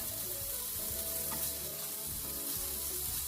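Vegetables sizzle steadily in a hot pan for a stir-fry, a close, bright hiss with occasional stirring scrapes and low clatter.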